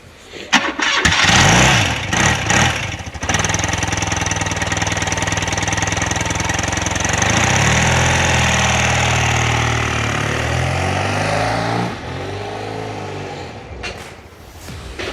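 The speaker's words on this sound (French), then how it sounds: "Petite séquence démarrage, comme ça on verra ce que ça donne entre le avant-après, parce qu'évidemment l'échappement changera." A BMW R80 motorcycle, a bobber project, cranks and fires up loudly, then settles into a rough, steady idle with slight rising and falling revs, close by for the whole stretch.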